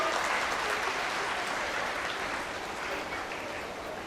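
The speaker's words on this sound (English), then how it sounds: "Please give a big round of applause for Mithil ma'am." Audience applause at an orientation day event, a dense, steady wash of many hands clapping that stays loud and even for the whole stretch before fading slightly at the end.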